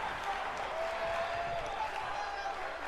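Crowd applause at an NXT wrestling event at Full Sail University in WWE 2K19, a steady, fairly faint wash of clapping and crowd noise.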